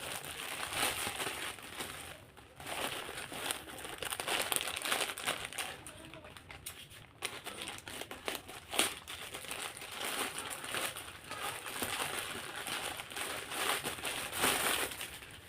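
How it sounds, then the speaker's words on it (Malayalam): Plastic packaging around a cotton saree crinkles and crackles steadily as the parcel is opened, a quiet, continuous rustle with no talk. "അപ്പോൾ നമുക്ക് ഈ കോട്ടൺ സാരി ഒന്ന് അൺബോക്സ് ചെയ്ത് നോക്കാം."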